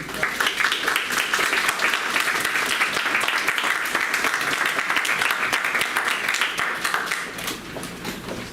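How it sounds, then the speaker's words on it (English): Applause from an audience at a school board of education meeting, a steady wash of many hands clapping for about seven seconds before thinning out near the end. "Let's give her a big round of applause"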